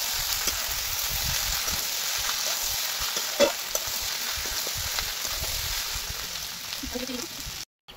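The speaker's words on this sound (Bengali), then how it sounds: "দেখো বেটে রাখা মশলা আর টমেটো কুচি দিয়ে আর সামান্য চিনি দিয়ে আবার ভালো করে মশলাটাকে কষিয়ে নেব" Ground spice paste with chopped tomato and a little sugar frying in a pan, a steady close sizzle with occasional stirring knocks and scrapes, cutting off abruptly near the end.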